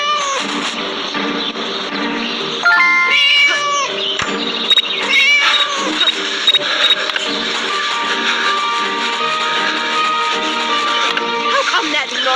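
Cartoonish cat meows in the Scary Teacher 3D game, several bright tonal calls rising and falling over background game sounds, close and fairly loud.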